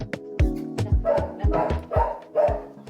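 A dog at an animal shelter gives a quick series of close, loud barks and yips in an irregular rhythm, with no talking.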